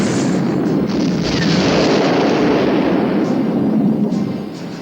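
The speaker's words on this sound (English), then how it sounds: "they were really big explosions" Big, roaring explosions rip through a burning, nearly fully loaded ship in the animated series TUGS, a loud continuous rumbling blast that swells and then tails off, with no talk over it.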